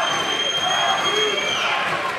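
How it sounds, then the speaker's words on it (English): Racquetball crowd at the 2005 US Open semifinals screaming and cheering in a steady, loud, dense roar that fills the whole stretch, with shrill whistles or cries cutting through above. "The crowd screaming Rocky."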